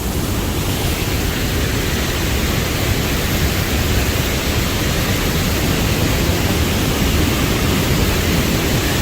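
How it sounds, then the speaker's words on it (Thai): A steady, dense rush of falling water roars continuously without change or pause. "ยังเป็นน้ำตก"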